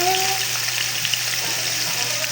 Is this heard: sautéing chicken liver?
yes